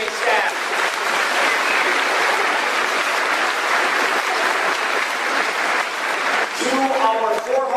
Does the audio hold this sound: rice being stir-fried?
no